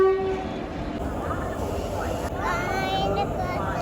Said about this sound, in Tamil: நம்மளோட ட்ரெயின் வந்துருச்சு